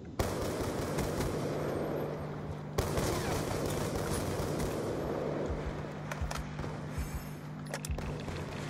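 A rapid-fire ULMP gun in a shooting video game, a dense, continuous burst of fast shots over a low steady hum, with a few sharper cracks near the end.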